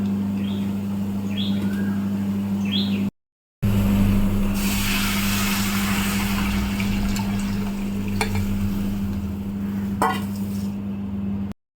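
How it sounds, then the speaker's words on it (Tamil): Tamarind water pours into a hot frying pan and hisses and sizzles loudly and steadily, with a short break partway through. "பாருங்க, புளி கரைச்சி ஊற்றியாச்சு"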